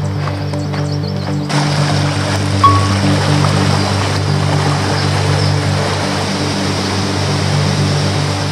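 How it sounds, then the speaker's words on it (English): A stream flows below a hiking trail at The Punchbowl near Santa Paula, California. Its steady broadband rush is loud and continuous throughout, with no voices over it. "You can definitely hear the water."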